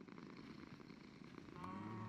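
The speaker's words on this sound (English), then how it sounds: "I hear her purring." A pet cat named Delilah purring in a survival video game, a faint, steady low rumble under quiet background ambience, swelling slightly near the end.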